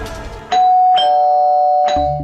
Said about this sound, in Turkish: Kim bu deli gibi zile basan acaba?